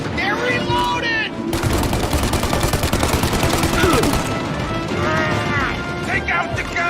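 Sustained machine-gun fire rattles loudly and continuously through a shootout in Mafia: Definitive Edition, while shouting voices cut in before and after the densest stretch.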